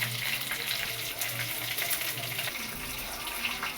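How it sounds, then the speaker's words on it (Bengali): Pieces of katla fish frying in a pan, a broad steady sizzle with a watery hiss and occasional pops, heard up close without talk. "ভেজে নিচ্ছি কাটাপোনা মাছগুলো।"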